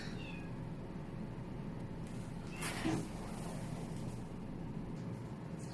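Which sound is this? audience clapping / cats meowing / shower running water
cats meowing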